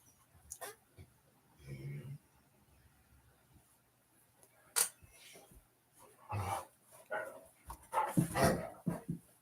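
Little dogs barking indoors: sharp high yips and barks in scattered bursts, growing busier toward the end, with a person talking at times.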